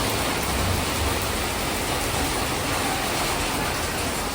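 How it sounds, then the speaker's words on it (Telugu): Steady rain falls continuously, a dense even hiss with no letup and no voices, close and fairly loud throughout. "వర్షం పడుతుంది"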